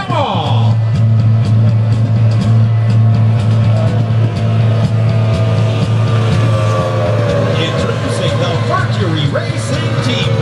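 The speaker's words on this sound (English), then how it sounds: "the power and precision of our high-performance speedboats" A high-performance speedboat at a water stunt show drones loud and steady throughout, its deep engine roar holding a constant pitch with faint crowd noise in the background.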